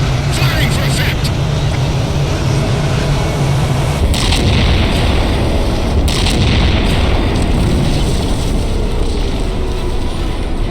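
Heavy ship-mounted cannon fire from the UNSC Infinity in Halo 4, loud repeated booming blasts and rumbling explosions over a constant roar, with voices speaking partway through.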